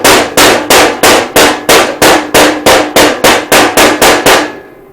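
A pair of pliers knocks slag off a flux core weld, fifteen or so sharp, loud metallic raps in a steady, even rhythm, close up and with no voices.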